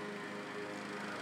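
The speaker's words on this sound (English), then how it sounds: "it's my across-the-street neighbor who's mowing his lawn" A lawn mower runs across the street, a faint, distant, steady motor hum throughout a brief moment.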